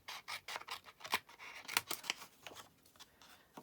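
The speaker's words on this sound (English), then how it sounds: "So what I'm going to do is I'm going to fussy cut these out with my snips." Small snips cut out paper shapes in a quick irregular series of crisp close snipping clicks, some louder than others, with soft paper rustling between cuts.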